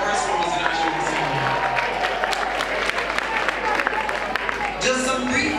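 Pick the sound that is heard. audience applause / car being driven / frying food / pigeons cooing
audience applause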